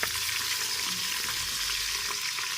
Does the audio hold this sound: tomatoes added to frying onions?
yes